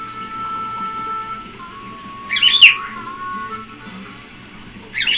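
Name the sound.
bird chirping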